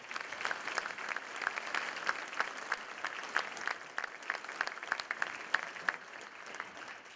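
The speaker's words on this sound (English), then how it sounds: "Let's give him a round of applause." An audience at a Rotary gathering applauds a Hall of Fame inductee, with sustained, even clapping lasting several seconds at moderate level and a few louder individual claps standing out.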